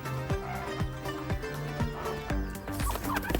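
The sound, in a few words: brown chicken on a farm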